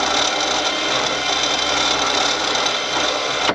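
Brand-new electric winch rated to pull two tonnes, fitted to a 4x4 Mercedes ML, running in a loud, steady, gritty mechanical whir from start to finish, close up with no talking.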